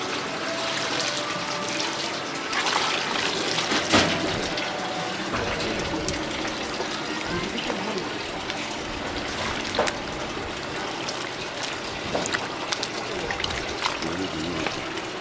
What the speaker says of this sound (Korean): 물 조금 더 부어.